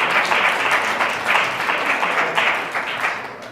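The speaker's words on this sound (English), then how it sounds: "Big round of applause." An audience at a healthcare fraud presentation breaks into sustained, fairly loud applause, a dense wash of clapping with slight swells that tapers near the end.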